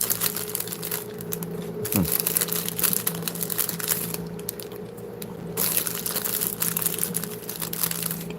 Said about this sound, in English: You're hearing this real crunching noise in the background. That's my air cleaners going off behind me.